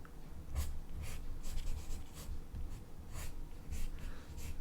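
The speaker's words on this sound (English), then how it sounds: "let's just draw some fun feet" A pen or pencil sketches caricature feet on paper with quick, repeated scratchy strokes, steady and close, alone in a quiet room.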